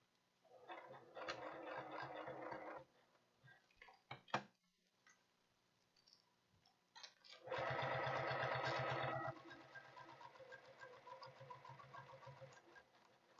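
Sewing machine stitching a knitting project bag close to the edge, with two bursts of steady rapid whirring needle strokes, the second louder and longer, separated by quiet clicks and handling.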